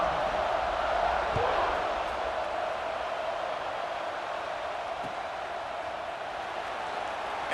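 A stadium crowd in EA Sports College Football 26 roars in a broad, steady wash before kickoff, swelling slightly at first and then holding at a moderate level.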